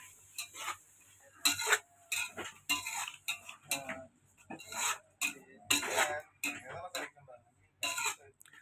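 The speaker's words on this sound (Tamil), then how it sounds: "நல்லா வதக்கி விட்டுட்டே இருக்கணும் நண்பர்களே" Anchovy curry ingredients are stirred and sautéed in a pan, with a utensil scraping and clinking in quick irregular bursts, close and fairly loud, with pauses between strokes.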